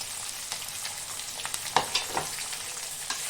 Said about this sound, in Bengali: ভালো করে তেজপাতা, শুকনো লঙ্কা ভাজা হয়ে গেলে কুচানো পেঁয়াজটা দিয়ে আবারও ভালো করে ভেজে নিতে হবে।